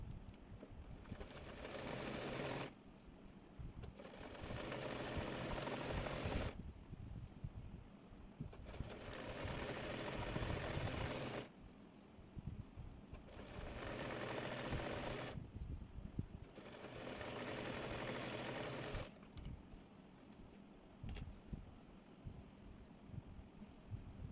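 A sewing machine runs a joint seam along a salwar in repeated bursts separated by short pauses, each run steady and close, with no voices.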